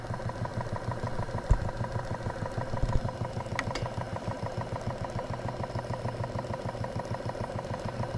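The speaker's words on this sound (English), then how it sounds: "Very quiet running engine." A twin cylinder live steam plant runs smoothly and quietly with a steady, even chuffing rhythm, a close mechanical patter that continues throughout with a few faint clicks.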